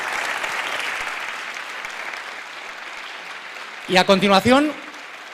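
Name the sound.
audience applause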